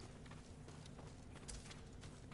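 Horses in the Ghost of Tsushima video game clip-clop steadily under a continuous, faint ambient wash of game sound, with no talking.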